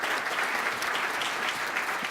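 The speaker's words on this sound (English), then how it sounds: "Let's give this gentleman another round of Cleveland applause." An audience gives the Mayor of Pittsburgh, William Peduto, a steady round of applause at a forum, even clapping throughout at moderate level.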